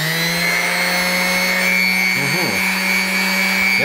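A TOPSHAK TS-SD2 130W mouse detail sander running continuously with a steady, loud motor whine and buzzing hum, its pitch holding level throughout, with a brief shift as it is moved.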